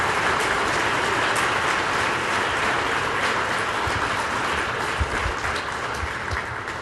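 An audience at a winter awards ceremony applauds its honorees, a dense, steady wash of clapping from many hands that carries on unbroken for about seven seconds, with no speech over it.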